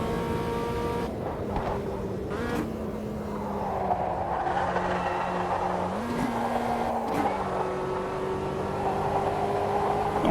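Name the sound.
front wheel drive race car driving in Automobilista 2 video game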